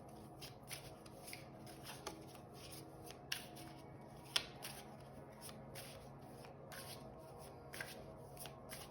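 Osho cards for a tarot reading are shuffled by hand, producing soft, steady riffling and sliding card sounds with a few light taps, quiet and close, with no talking.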